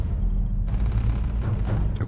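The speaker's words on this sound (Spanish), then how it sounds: "Escuchando disparos." Dense, rapid gunfire from a firefight in the space game Starfield, loud and continuous, with the bursts thickening after the first moments into overlapping volleys that sound like several weapons firing at once.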